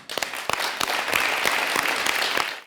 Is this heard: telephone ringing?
no